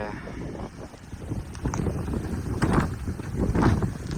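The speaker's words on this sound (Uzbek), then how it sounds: "afg'on shamolini qaranglar, afg'on shamoli" Strong Afghan wind in Afghanistan buffets the microphone in rough, surging gusts, a low roaring rumble that swells and eases with no clear voices.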